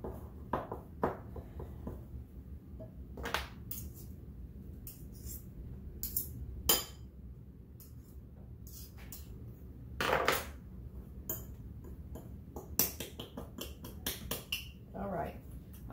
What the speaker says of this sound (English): I'm just going to keep mashing it in with a fork to get it moist